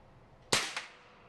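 A single sharp, close crack from a German 9mm Flobert sparrow pistol loaded with a conical Concorde bullet, with a quick secondary snap just after, then quiet.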